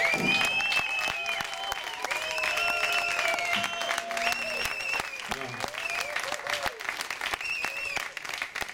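A climate rally crowd in Aachen applauds steadily for several seconds while a voice keeps talking over the clapping.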